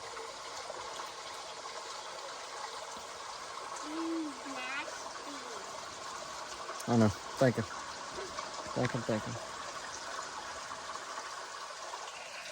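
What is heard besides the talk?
water flowing through culvert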